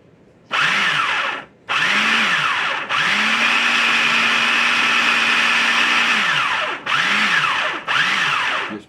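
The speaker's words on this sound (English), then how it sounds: "It's fixing to start blending really good." A kitchen blender pulses homemade pimento cheese with mayo in loud bursts: two short whirring pulses, then one long sustained run, then two more short pulses. The motor pitch rises and falls at each start and stop, with no talking.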